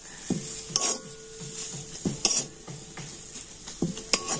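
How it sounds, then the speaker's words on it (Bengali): Onion filling with chopped coriander leaves is stirred in a pan, with a utensil scraping the metal in spaced strokes over a soft sizzle and no talking. "তো ধনেপাতা দিয়ে নাড়াচাড়া করে নিলেই হয়ে যাবে আজকের আমার পেঁয়াজের পুর।"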